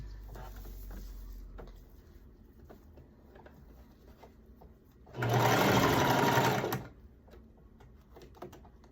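A sewing machine stitches a skirt seam in one steady burst of about a second and a half, loud and close, with quiet fabric handling before and after.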